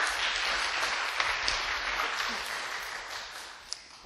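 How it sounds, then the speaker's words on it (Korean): Audience applause in a Korean forum hall welcoming a professor to the stage for the final lecture, a steady wash of clapping that holds for a few seconds with a couple of sharper claps standing out. "박수로 맞이해 주시기 바랍니다"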